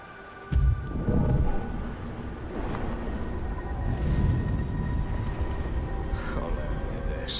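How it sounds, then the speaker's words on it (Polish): In the video game Beyond: Two Souls, a loud thunder rumble breaks in near the start, then heavy rain pours on in a steady, dense hiss for the rest of the clip. "Cholerny deszcz."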